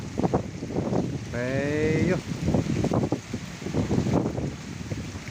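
A strong windstorm sweeps through an outdoor bonsai exhibition in Glemor, Banyuwangi, a constant roaring buffet of gusts under people talking, with a brief tonal whine partway through.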